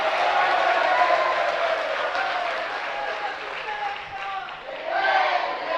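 Audience at a Jain monk's morning sermon (Mangal Pravachan) claps in a sustained, dense wash of applause from a large crowd, with a voice speaking faintly over it.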